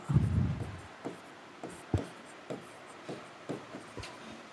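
Chalk or marker writing on a classroom board, a series of short scratchy strokes and taps at an uneven pace, after a brief low murmur at the start.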